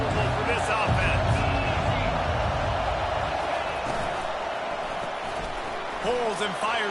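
Stadium crowd at a college football game, Michigan State against Florida State: a steady, loud wash of cheering and roar throughout, with a commentator speaking over it.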